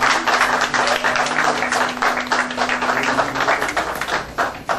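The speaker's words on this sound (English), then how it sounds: "please give her a round of applause," An audience at a pageant event applauds Miss Preteen of South Florida. The clapping is loud, close and continuous, with a faint steady hum underneath.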